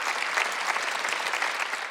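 Church congregation applauding at an Easter Sunday service, dense steady clapping from many people filling the room for the full two seconds, without a pause.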